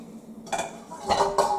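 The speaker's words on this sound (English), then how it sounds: "I'm going to get this pan out of the way right now that you just maybe watched me boil eggs in." A metal pan and dishes are shifted about in a kitchen sink, producing a few close clanks and ringing clinks in quick succession, with no talking.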